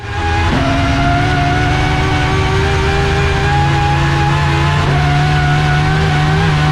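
Judd V10 naturally aspirated engine fitted in a Formula Toyota Supra drift car, droning loud and steady with a rising rev and a sustained high-pitched whine throughout.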